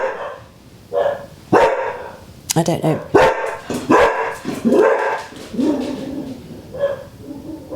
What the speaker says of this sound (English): they're both in the front room barking now at something